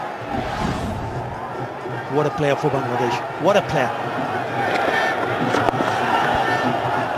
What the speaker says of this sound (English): Stand up and applaud.